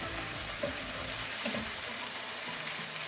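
Shrimp being stirred and dry fried in a pan, a soft continuous sizzle under light scraping and stirring, fairly close and even in level.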